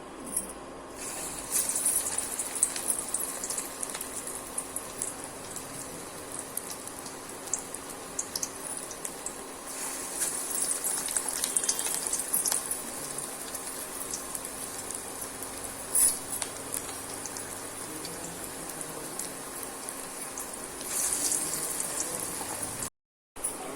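Onion fritters fry in hot oil with a continuous crackling sizzle and scattered pops throughout, ending in a brief cut to silence.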